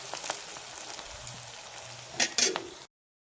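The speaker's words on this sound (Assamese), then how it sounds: "পিঁয়াজ দি দিম। গাইছ পিঁয়াজখিনি ভাজি লৈছোঁ ধুনীয়াকৈ।" Onions frying in oil in a pan, a soft, steady crackling sizzle with brief louder sputters near the end before it cuts off; no voices.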